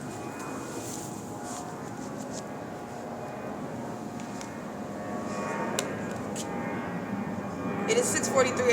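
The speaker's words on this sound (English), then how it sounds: "That's no takeoff from an airport. And that is Southwest Airlines." Southwest Airlines airplane passing overhead at dawn, a broad distant engine roar that swells toward the end, heard beneath someone talking.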